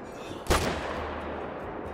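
A single rifle shot fired at a blacktail buck in the Call of the Wild hunting game cracks sharply and close, then trails off into a short rumbling echo over quiet ambience.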